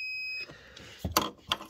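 A battery charger for a Toyota hybrid gives a short steady electronic beep, followed by a few soft clicks and handling knocks, faint and close.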